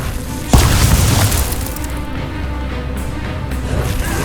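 Incendio fire spell in Hogwarts Legacy: one loud, sudden boom blast that hits hard and then decays into a roaring, crackling fiery wash over several seconds, with no speech.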